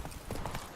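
Horse hooves clip-clop steadily on a road in the video game Witcher 3, a quick even run of close, moderately loud hoofbeats with no talking.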